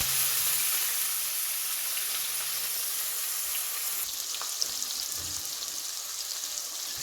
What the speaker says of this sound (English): We'll stir it properly. So we'll stir it till it's golden brown.